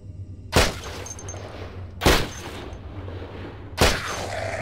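Three widely spaced gunshots in the survival game Cataclysm Dark Days Ahead, each a sharp loud crack with a short decaying tail, over a low steady hum.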